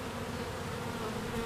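A swarm of honeybees buzzing in a steady, droning hum, close by and unbroken, with no voices over it.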